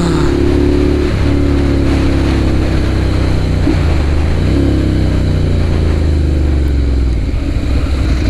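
A Ducati Monster 795 motorcycle engine runs loud and close with a steady, throaty low rumble, swelling and easing slightly as the rider blips the throttle, with no talking over it.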